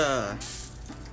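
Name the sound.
gold roux sizzling in pan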